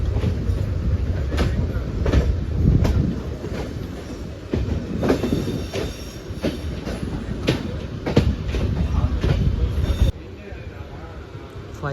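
A MEMU daily passenger train rolls into Krishna Canal station on the Reddigudem to Vijayawada route, heard from aboard as a loud steady rumble with repeated rail clicks and brief squeals, continuous throughout.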